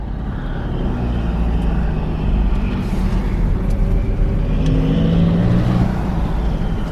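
An Audi in sport mode with manual shifting accelerates hard, its engine droning loud and steady with a rising rev that lifts after about two seconds, heard from inside the car.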